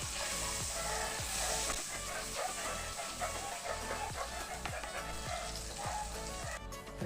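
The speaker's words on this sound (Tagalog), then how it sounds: "nag-melt na ang ating butter" Butter sizzles steadily in a pan over medium heat for butter garlic shrimp, a close, continuous crackling hiss with occasional scraping taps.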